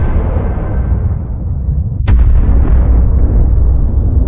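An atomic bomb test explodes in the New Mexico desert. A loud, low rumble gives way to a single sharp blast, which swells into a sustained deep roar.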